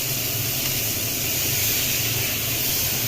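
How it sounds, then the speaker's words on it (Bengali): Meat dropped into hot oil and spices in a home cooking pot, giving a steady, loud broadband sizzle that holds without a break throughout. "মশলা থেকে তেলটা বেরিয়ে এসছে, এবার আমি মাংসগুলো এতে দিয়ে দিলাম।"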